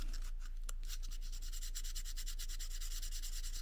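Fine emery paper rubs gently across the distributor points of a VW Beetle, producing a quick, rhythmic scratchy scraping of short strokes, close and steady with no speech.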